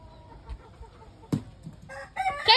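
A rooster crows once near the end, loud and close, after a quiet stretch with a sharp thump, on a rainy farm visit while chickens are being fed corn.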